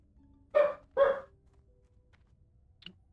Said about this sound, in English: He's doing his little pre-woof, so I imagine there's a big bark coming up in a moment.